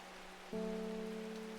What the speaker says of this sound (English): It's pouring rain, though.